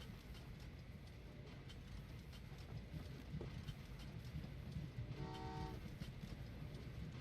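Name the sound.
passenger trains running in video game Train Valley 2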